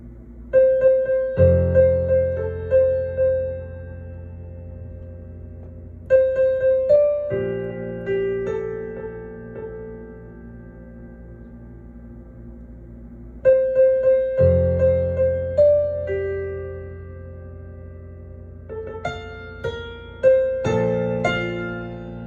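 Solo piano plays a song in repeating phrases of sustained chords over deep bass notes, with a bright melody on top. The playing is close and clear, and no one speaks.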